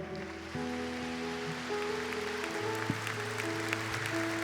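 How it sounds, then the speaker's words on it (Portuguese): A congregation claps steadily in a dense wash of applause at a Catholic prayer service, with sustained organ or keyboard tones underneath. "Vamos aplaudir o Senhor."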